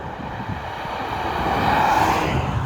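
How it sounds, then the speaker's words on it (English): Mercedes E400 floored at full throttle and kicking down to third: a steady, rising engine roar heard from the cabin, building in pitch and loudness over a couple of seconds with road and wind noise underneath. "So if we floor it down, kick down to third"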